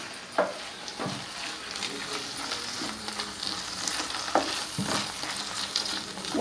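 Drumstick leaves sauté in a hot pan with a steady, close sizzle, broken by a few sharp clinks and scrapes of stirring, with no talking.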